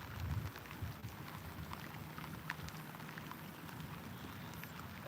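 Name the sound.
rain falling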